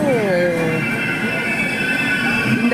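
A train rolls past close by with a continuous rumble and high metallic wheel squeal ringing over it, while a voice speaks briefly at the start.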